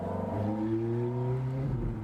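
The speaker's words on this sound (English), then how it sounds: "listen how easy this car just accelerates here" A Ferrari F430 Spider pulls away from a green light, its engine note rising steadily through a strong harmonic climb before easing as the next gear approaches, loud and close with no talking.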